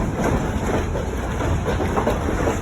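A heritage train on the Strasburg Railroad rolls steadily along the rails with a continuous rumbling clatter, close and fairly loud, with no voices.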